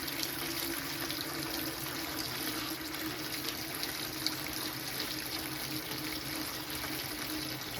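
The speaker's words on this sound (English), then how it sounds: "let that water run back over there" Kitchen sink tap runs steadily while collard greens are washed, a continuous close hiss of flowing water with no talk, unchanging from start to finish.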